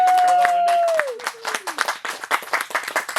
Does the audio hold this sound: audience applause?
yes